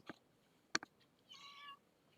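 A house cat gives one clear, drawn-out meow close by in a quiet indoor room, preceded by a few faint clicks and taps.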